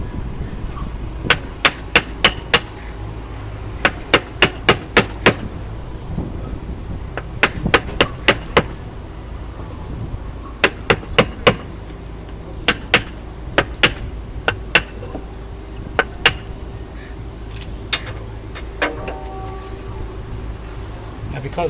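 Caulking iron struck by a mallet to drive cotton into a seam between thick wooden boat planks: sharp, ringing knocks in quick bursts of three to five blows, separated by short pauses, close and loud.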